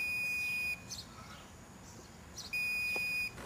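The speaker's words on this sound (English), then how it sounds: "the oxygen level could be beeping from the previous reading" A gas detector used for mapping gas leaks around trees beeps an oxygen-level alarm outdoors, two long steady high-pitched tones separated by a quieter gap with faint background noise.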